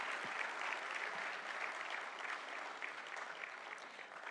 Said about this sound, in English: let's have a roaring applause for our winners